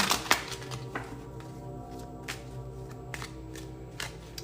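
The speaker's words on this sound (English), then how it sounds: "One more shuffle here." Tarot cards riffle and snap in a few quick bursts, a close, crisp shuffle with soft rustling between, no voices.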